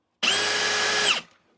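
A Ryobi hammer drill motor whirs up sharply, holds a steady high-pitched whine for about a second, then winds down quickly; close and loud, with no other sound.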